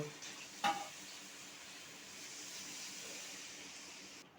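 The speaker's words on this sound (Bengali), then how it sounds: "এই যে তেল ছাড়ছে মশলার থেকে এখন আমি একটু জল দিয়ে দেব" Spice masala frying in oil after a splash of water, a steady hissing sizzle with a brief sharp spatter near the start and soft stirring, close and continuous.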